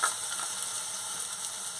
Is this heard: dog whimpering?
no